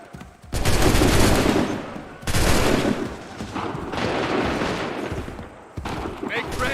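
Musket volleys in Assassin's Creed III, firing in several loud, crackling bursts, each a dense ragged volley of many guns that trails off before the next. Voices can be heard between them.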